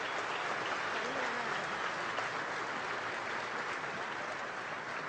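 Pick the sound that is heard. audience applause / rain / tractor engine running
audience applause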